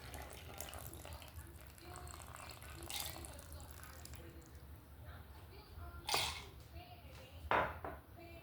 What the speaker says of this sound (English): I'm just going to pour the 2/3 cups of ice cold water into my bowl.